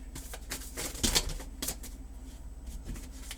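Tarot cards being shuffled by hand, a soft papery riffling and flapping that comes in a few brisk bursts, loudest near the middle, over a faint steady background hum with no talking.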